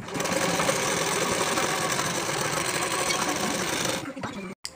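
Sewing machine stitching the front part of a size 38 bra-cut blouse, running in a steady, loud, continuous whir for about four seconds before stopping abruptly.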